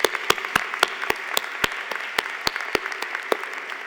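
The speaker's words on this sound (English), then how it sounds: "Again, please give them a round of applause." An audience at a Stony Brook College of Business convocation applauds, with scattered sharp claps rising above a steady wash of clapping throughout.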